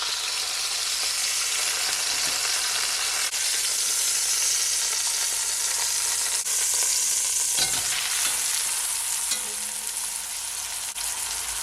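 Beef searing in a pot, a loud continuous close sizzle with a few clinks and a brief scrape of flipping partway through, no voices over it.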